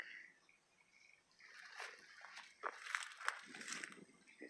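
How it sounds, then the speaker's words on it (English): Faint, scattered splashes and sloshing water from an alligator in a pond somewhere off at a distance, irregular and brief, against an otherwise quiet outdoor background. "Gator splashing in the back."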